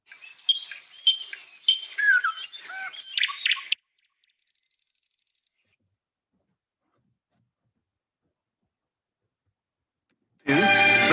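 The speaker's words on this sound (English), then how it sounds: "Birdsong, for example, is a sound which most people find reassuring" Birds sing in a quick series of bright chirps and trills for a few seconds, then silence falls before a brief burst of sound returns at the very end.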